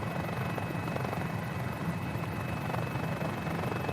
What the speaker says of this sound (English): You can really tell just by listening to the helicopter whether or not she's having a fun time.